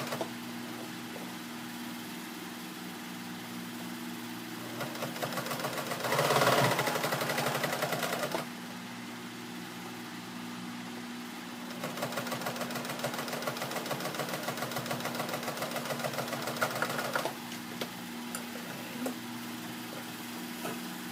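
A sewing machine stitches ribbon onto a denim apron made from old jeans, running in two steady motorized bursts with a hum and rapid needle chatter, one short loud run and then a longer, even stretch, all without talk.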